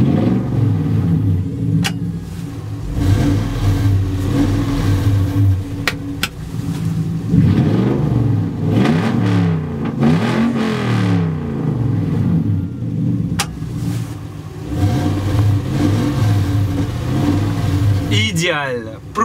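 A UAZ off-road vehicle revs its engine with a switchable loud exhaust, deep rumbling bursts rising and falling repeatedly, close and loud, with people talking over it.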